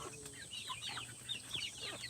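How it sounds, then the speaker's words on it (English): A rooster clucks in a pen that holds two roosters, giving a quick run of close, short, throaty clucks with no talking. "Them's 2 roosters in there."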